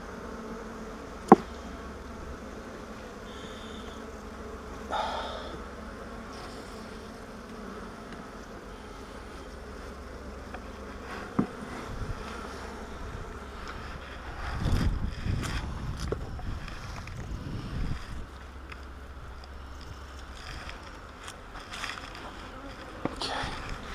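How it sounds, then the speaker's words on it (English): Honey bees buzz in a dense, continuous hum around an opened hive box during an inspection, with occasional knocks and clatter from handling the equipment. "This box has got a lot more bees than that other one did."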